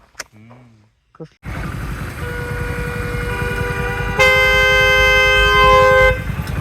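Vehicle horns blare in a highway traffic jam, layered tones sounding together and swelling louder midway before cutting off, over a rumbling engine background, after a brief voice and short pause at the start.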